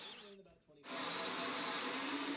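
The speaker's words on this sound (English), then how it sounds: "it was time to drill holes in the counters" A hole saw bores through a wooden counter in a home library build. After a short lull with a faint voice, it settles into a loud, steady, close grinding whine that holds to the end.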